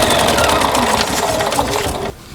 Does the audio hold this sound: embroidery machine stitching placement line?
yes